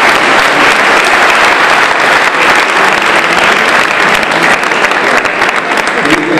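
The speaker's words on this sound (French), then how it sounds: "on applaudit monsieur Léger" Loud, dense applause from a business club gathering held in an Audi dealership in Aix, welcoming a guest, with many hands clapping steadily throughout and no speech on top.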